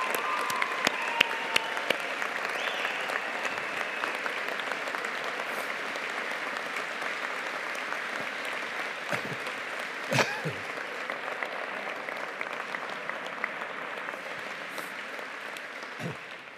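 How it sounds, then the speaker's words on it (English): Sustained applause from a graduation ceremony audience honouring the 2024 graduates, steady and dense for the full stretch with a few sharper claps standing out, fairly distant and hall-like, no voices over it. "join me in offering our heartfelt congratulations to our graduates of 2024 for their collective achievements and success with a round of applause"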